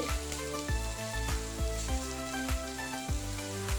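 Green chillies and capsicum fry in a pan for a capsicum tamarind pachadi, giving a steady close sizzle broken by regular soft thuds every half second or so, with no voices.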